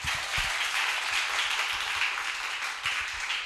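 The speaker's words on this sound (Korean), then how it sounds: "한 분 한 분 소개될 때마다 여러분 힘찬 박수로 환영해 주시기 바랍니다." An audience at an education forum in Seongnam applauds to welcome a guest as they are introduced, with dense, steady clapping filling the room throughout.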